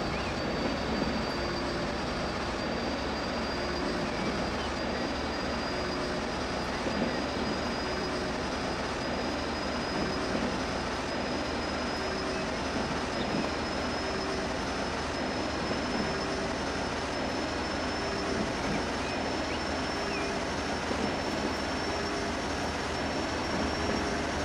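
A DMU train in the video game Transport Fever 2 produces a steady, dense rolling drone with a thin high whine, holding at an even loudness with no voices throughout.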